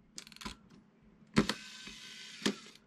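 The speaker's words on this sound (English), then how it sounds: "Cock the shutter" A few sharp mechanical clicks and a short ratcheting wind as the shutter of a Contax D film camera is cocked, set to 1 second, close up in an otherwise quiet room.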